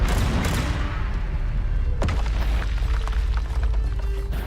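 A Confringo explosion spell goes off in Hogwarts Legacy as a loud, booming blast with a sharp impact near the middle, set in dense, rumbling combat noise.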